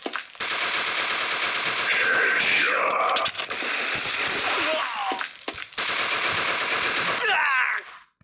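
Sustained automatic gunfire from a video game, rapid bursts firing almost continuously for several seconds with a brief gap, loud and close, before cutting off at the end; no talking over it.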